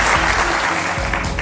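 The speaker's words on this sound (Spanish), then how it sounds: "un aplauso para ella" Applause from an audience at a studio program, a dense, steady clapping that is loud and sustained throughout with no speech over it.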